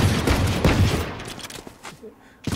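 Rapid bursts of gunfire ring out during a competitive Valorant esports grand-final match, with heavy overlapping shots fading into scattered echoes under a commentator's voice.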